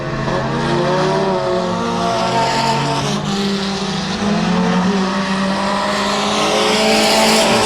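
Mini stock race cars at full speed on the Genesee dirt track, including the 198 car. Loud, close engines roar and rise in pitch with a continuous, layered drone, and tires scrub faintly underneath.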